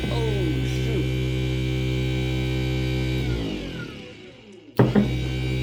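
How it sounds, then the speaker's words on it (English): The electric motor of a Napa Maxi Trac air compressor hums steadily and loudly, then winds down to near silence, followed by a sharp clunk and the motor humming again. "in theory, this motor should work"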